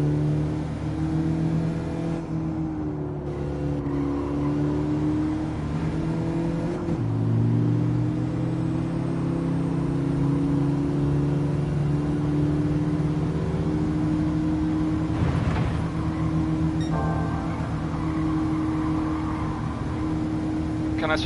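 A race car engine in Gran Turismo 7 drones steadily and climbs through gear changes, a constant loud motor tone that shifts pitch at times.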